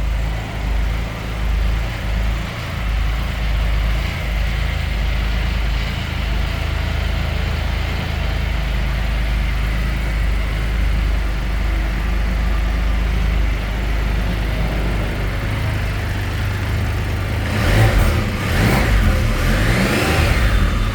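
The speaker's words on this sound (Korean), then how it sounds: "엔진 소리도 매우 정숙하고요" A Can-Am Spyder RT Limited three-wheeled motorcycle engine idles with a steady low rumble, then revs up several times near the end, the pitch rising and falling.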